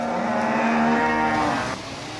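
Cattle low loudly and close on a Grand Union Canal towpath, one long drawn-out moo swelling and then cutting off, with steady background hum beneath.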